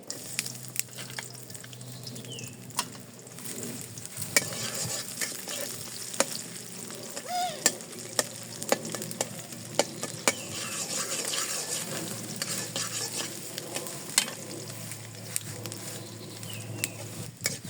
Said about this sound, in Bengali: তেল দিয়ে দিই। পেঁয়াজ কুচি দিয়ে দিই।